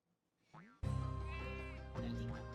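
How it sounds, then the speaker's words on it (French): A cartoon sheep in the video game Skylanders Spyro's Adventure lets out a loud, drawn-out bleat after a short rising squeak, the wavering cry filling the moment alone. "Et les moutons."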